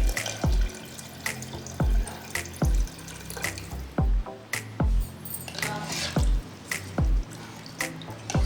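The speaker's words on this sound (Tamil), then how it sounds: "நான் ஒரு 2 கப் போல் தண்ணி சேர்த்துக்கிறேன்." About two cups of water pour and splash steadily into a pot of mutton bone soup, with repeated sharp drips and plops landing at a regular rhythm, close and fairly loud, no voices.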